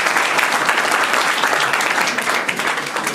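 Loud, close applause from an audience at a business school's start-of-year seminar in an amphitheatre, honouring a former student who now works in Senegal. A short, dense burst of clapping with no talk.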